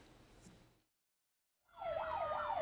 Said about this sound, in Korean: 소방차가 경광등을 울리며 골목길로 진입하고